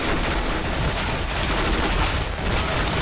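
Dense, continuous gunfire from a Counter-Strike: Global Offensive match fills the whole stretch as loud, rapid overlapping shots with no pause and no voices.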